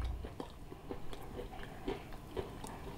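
Crunchy bites into crispy flour-battered fried chicken, a quiet series of small crackles and chews heard close up with no talking.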